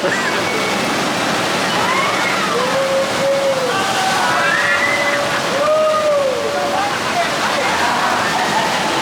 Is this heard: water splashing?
yes